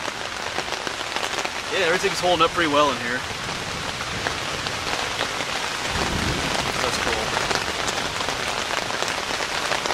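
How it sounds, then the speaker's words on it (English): Storm of rain and thunder beating on a tent at Worlds End State Park, Pennsylvania: steady, loud rain patter on the fabric throughout, with a low rumble partway through and someone talking briefly over it. "Thunder, lightning, rain,"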